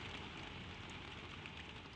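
Gentle rain falls steadily at night, a soft, dense patter without pause, quiet and even throughout.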